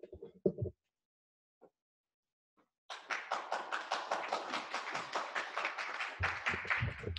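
An audience at a university graduate-exhibition info session applauds the AV support specialist. A few isolated claps come first, then after a pause a sustained burst of dense, moderately close clapping continues to the end, with a low thump near the close.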